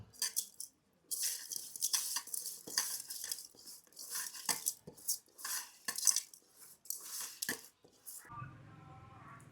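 Metal spoon scraping and clinking in a pot as a grandmother mixes a spice paste of garlic, dried coconut, coriander seeds, cinnamon and cloves for a small-fish curry, with irregular close clatters throughout and a brief low rumble at the end.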